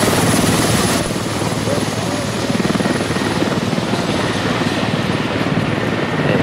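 Continuous helicopter rotor thrum in a squad-based multiplayer video game, a loud, steady buzzing drone that runs throughout, with players chatting underneath it.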